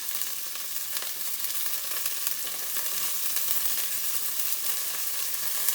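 Onion and green peas roast in a hot pan for Karnataka-style tomato rice, giving a steady, close, even sizzle and crackle that holds for the whole stretch with no voices.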